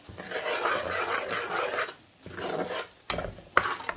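Masala hitting hot oil for a Guyanese tarpon (cuffum) curry: a close, rough sizzle that swells and fades as it is stirred, with a brief lull and a couple of sharp scraping knocks near the end.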